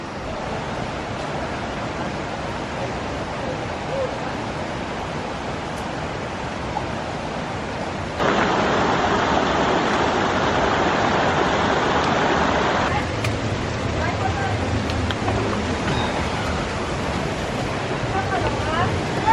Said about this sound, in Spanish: esta es la catarata en persona.